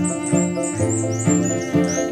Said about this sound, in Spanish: Para mí un pájaro cantando, cuando escucho su sonido, a mi entender, yo ya lo estoy viendo.